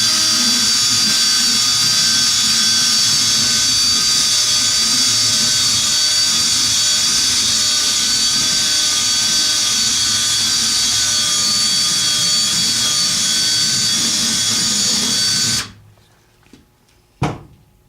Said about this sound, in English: I'll take a bristled brush on a drill to clean the ski up before we put wax in it.